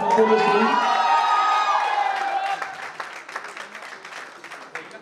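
A crowd at a foundation day event applauds and cheers loudly, with whoops at first, then the clapping thins into scattered claps.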